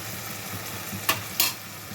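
Native tomatoes cook in oil for an old-style tomato gongura curry, a soft steady sizzle broken by two brief stirring scrapes near the middle, with no talk.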